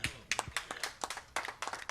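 Audience clapping at a jazz and blues hall of fame induction ceremony, a brief, faint patter of hand claps from a small crowd, continuous and uneven over two seconds.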